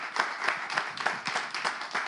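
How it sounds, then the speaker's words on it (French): A crowd applauds dancers at a live show, with rhythmic, fairly even clapping that pulses steadily throughout. The applause is moderately faint and sits somewhat distant, with no voices over it. "On va les applaudir encore"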